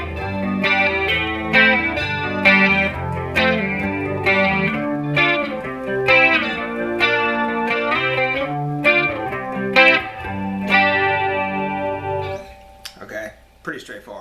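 Electric guitar playing the verse chord progression of a song, with effects and slight distortion, strummed steadily and close for about twelve seconds before fading into a few scattered notes.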